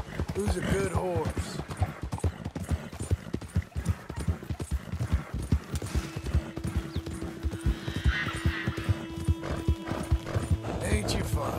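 A horse in Red Dead Redemption 2 walks with steady rhythmic clip-clopping hooves and gives a whinny near the start, close and clear, while someone talks to it.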